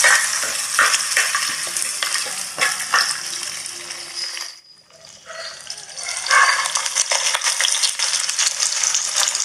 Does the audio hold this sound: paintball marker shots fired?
no